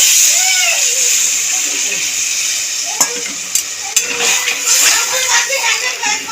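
Water poured into a pan of simmering fig curry (dumurer dalna), bubbling sizzle and hiss with a few sharp clinks of a utensil against the pan, close and fairly loud.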